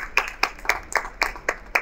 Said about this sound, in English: A round of warm applause and excitement, please.